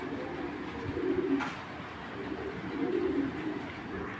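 Racing pigeons in a loft coo softly in two low, rolling bursts over a faint steady background hum.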